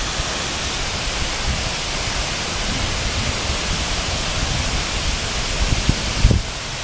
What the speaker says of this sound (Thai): น้ำตกถือว่าไหล ไหลเชี่ยวมาก แล้วก็ สูงมากๆตามไปเลยครับ